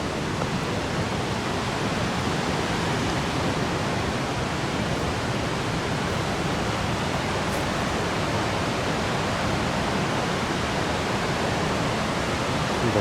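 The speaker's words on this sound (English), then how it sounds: "See the waterfall back there a ways." Steady broadband rush of a waterfall some distance back from a fenced-off wooded area, a continuous even roar of falling water with no pauses, no voices and no other distinct sounds.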